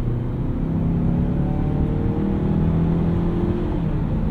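2019 Mazda CX-5 Signature Turbo accelerating from inside the cabin, a steady low engine drone and road rumble with gently rising tones as it pulls through a gear change.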